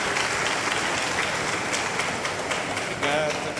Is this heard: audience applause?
yes